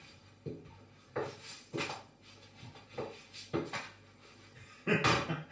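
Spatula scraping and tapping on a pan while flipping a Chinese egg pancake (jidan guanbing), a handful of sharp clinks and scrapes spread unevenly over a low background, the loudest clatter at the end.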